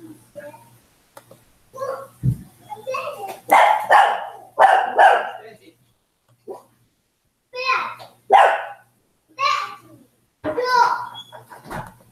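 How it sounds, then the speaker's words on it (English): A puppy barks in several sharp bursts spread through the clip, close and loud, with quieter human speech in between. "Yelling at the dog to be quiet."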